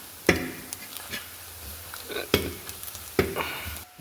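Pressure-cooked chickpeas tossed into roasted coriander powder, red chilli, Kashmiri chilli and fennel in a pan, heard as a low sizzle punctuated by three or four distinct spatula scrapes and clunks, close and without speech.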